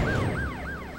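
A police car siren wails in the driving game Driver: San Francisco, a steady rising-and-falling electronic tone repeating about three times over engine rumble, loud and close.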